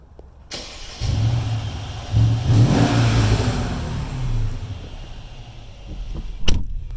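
A Mercedes CLS 550 engine starts, then blips in short revs and holds a sustained rev before dropping back to a low idle. It is close and fairly loud, with no talking.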